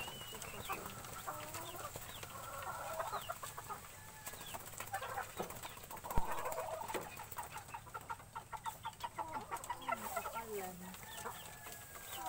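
Hens cluck and chatter in a farmyard, scattered calls rising and falling with occasional wing flaps and a sharp knock, while people talk quietly nearby.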